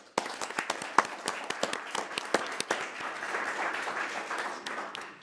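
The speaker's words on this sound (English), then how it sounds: "So I'd like to give Jason a round of applause for his promotion." Applause fills a city council meeting in Kent for a police officer's promotion, with sharp individual claps standing out at first before the clapping thickens into a steady, moderately loud wash that gradually thins.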